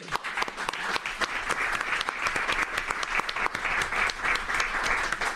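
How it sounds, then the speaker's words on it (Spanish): Moderately quiet, sustained applause from an audience at a book presentation, a uniform patter of many hands clapping with no voices over it. "les pido un fuerte aplauso también para todos"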